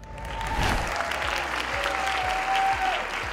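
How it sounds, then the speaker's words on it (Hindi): Studio audience applause on a Pakistani comedy talk show, a steady dense burst of clapping that fills the whole moment at even loudness, with a few faint voices underneath. "तालियां बजा दिया करो यार।"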